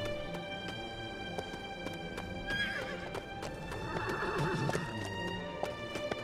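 A horse in the Lego Lord of the Rings video game walks with steady clip-clop hoofbeats and lets out a loud whinny midway, over soft game background music, with no talk.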